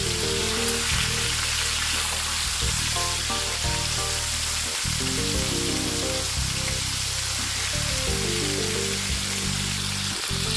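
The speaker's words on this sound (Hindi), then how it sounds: "ये चिकन भी इधर फ्राई हो रही है, फ्राई क्या शैलो फ्राई हो रही है" Chicken shallow frying in ghee gives a steady, close hiss and crackle that runs the whole time beneath continuous background music.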